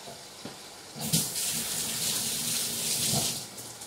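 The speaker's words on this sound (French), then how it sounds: "c'est pour ça que je peux juste rincer sous l'eau" Thin carrots rinsed under a running kitchen tap, water splashing steadily for a few seconds after a couple of light knocks, close by, no talking.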